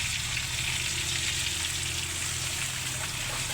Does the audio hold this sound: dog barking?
no